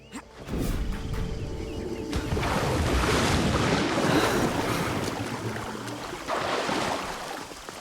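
Water in Assassin's Creed gameplay: a splash-like onset followed by a steady broadband rush of waves and wind, fairly loud and continuous, with no talking.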